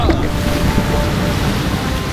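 River water parting and rushing in an animated film, a loud, full surging roar like surf and wind, steady throughout two seconds with a faint tonal hum beneath.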